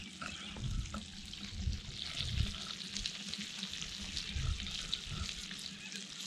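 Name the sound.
razorfish frying over campfire flames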